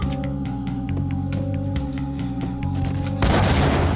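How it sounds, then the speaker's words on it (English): Heavy booms and rapid gunfire from grenade launcher explosions in the video game Max Payne, with repeated thuds and a louder blast rush near the end. "Oh, he has a grenade launcher."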